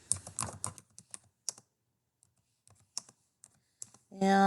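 Short bursts of clicking keystrokes on a computer keyboard, close and crisp, separated by pauses, with a rising tonal hum at the very end.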